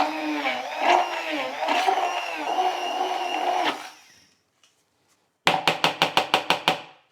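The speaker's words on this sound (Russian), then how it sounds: "Погружной блендер. Жужжим." An immersion blender runs with a steady electric whirring buzz for several seconds, blending a ceviche mixture, then cuts out; after a pause, a quick series of sharp knocks follows.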